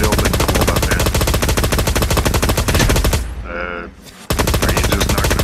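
Rapid automatic gunfire rattles loudly and continuously in the battle royale game Cyber Hunter, breaking off for about a second before the burst resumes.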